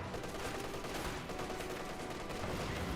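MG34 machine gun fire in a Company of Heroes 2 match, the gun suppressing a combat engineer: faint, steady rattling bursts mixed with the distant crackle of battle, no talk.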